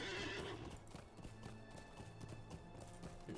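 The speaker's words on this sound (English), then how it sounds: "Let's get our horse back out." A horse in Lord of the Rings Online neighs briefly and then its hooves clip-clop in a steady, rapid rhythm, close and clear over game music.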